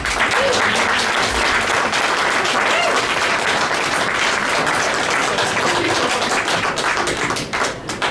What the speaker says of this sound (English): Can we just clap again?